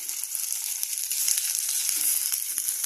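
Sliced okra sautéing in a pan sizzles in a steady, close hiss, with soft clicks and stirring taps scattered through it.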